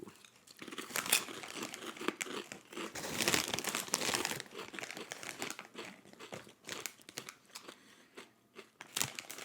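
A bag of Kibo Spicy Ranch lentil chips crinkles and rustles close to the microphone in irregular bursts of crackling plastic, with small crunches between, loud then quieter, and no speech over it.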